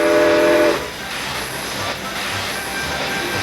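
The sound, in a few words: steam locomotive whistle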